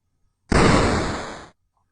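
A single short synthetic impact burst from a video game, a ship-hit sound, loud and noisy, sustaining for about a second before cutting off abruptly, alone in silence.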